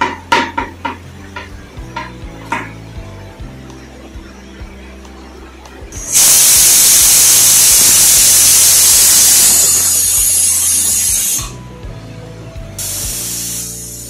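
Blender whirring loudly as it blends ingredients for a malai kofta curry, starting after some clinks of kitchenware and running as a strong, continuous roar for several seconds, pausing briefly, then starting again.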